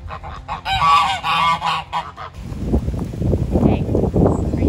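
Farm geese honk loudly several times in the early morning at an old mill in Cornwall, and a steady broadband rustle or wind noise follows for the last half.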